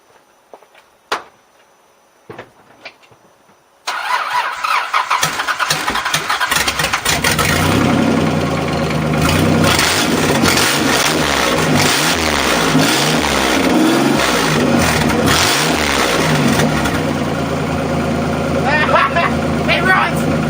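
A Nissan 300ZX Z31 engine cranks and catches after a few faint clicks, then settles into a loud, steady running rumble with slight revving, close to the microphone, with voices faintly underneath.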